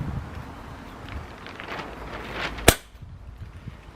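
A Webley Venom Viper air rifle firing a single shot outdoors: one sharp, loud crack that decays quickly, heard against wind noise on the microphone.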